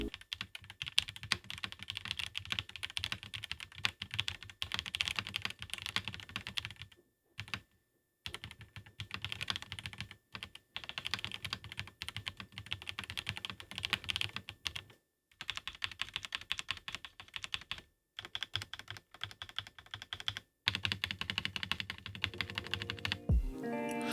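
Typing on a budget mechanical keyboard: quick, close clacks in bursts with short pauses between runs of keystrokes, heard alone without speech.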